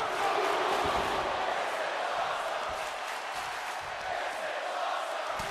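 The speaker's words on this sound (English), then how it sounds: "There you hear the appreciation for this sold-out crowd in Milwaukee, Tommaso Ciampa's hometown" Dense, continuous roar of a sold-out arena crowd cheering during a wrestling match in WWE 2K24, set in Milwaukee, loud and sustained throughout with no clear breaks.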